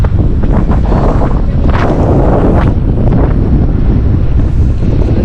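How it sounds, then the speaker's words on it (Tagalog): Strong wind buffets the microphone with a loud continuous roar and gusty surges throughout, no clear voices. "Grabe yung hangin"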